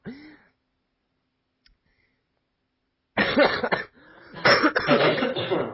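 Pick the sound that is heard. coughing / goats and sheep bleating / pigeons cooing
coughing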